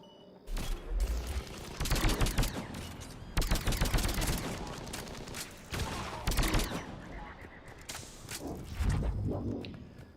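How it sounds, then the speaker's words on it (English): Shotgun blasts in the video game Mass Effect 3 ring out in a rapid series of sharp, loud reports, several bursts close together across ten seconds with short gaps between volleys. "That's our shotgun."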